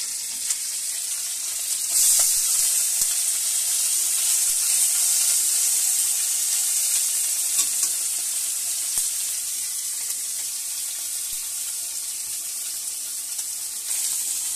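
Small fish sizzling and frying steadily in hot oil in a kadai, a continuous bright hiss held close for the whole stretch with occasional faint clinks.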